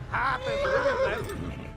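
Horse in the medieval video game Kingdom Come: Deliverance lets out a loud, close, drawn-out whinny lasting over a second, with faint game sounds beneath.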